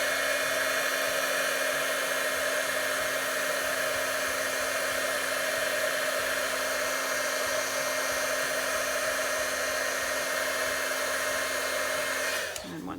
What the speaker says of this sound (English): I'm just going to aim the heat gun away from my fingers